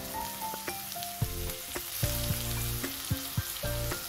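Chopped onion and small pieces of carrot sauté in a pan for a vegetable egg Maggi, with a steady close sizzle broken by sharp clinks and scrapes of a stirring utensil.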